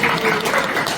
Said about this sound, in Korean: 하나님께 영광의 박수 한번 드리고요